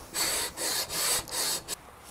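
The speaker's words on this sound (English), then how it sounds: "I don't want to take a chance on sanding a fall away into it" Sandpaper rubs back and forth across a custom guitar's wooden fretboard in five loud, close strokes of even rhythm, each a harsh rasping sweep with brief pauses between.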